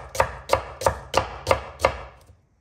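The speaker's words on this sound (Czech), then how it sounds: "Tady ještě si nakrájím trochu cibule." A knife chops through onion on a board in six evenly spaced, crisp knocks, close and clear, roughly three a second, the last one trailing off into quiet.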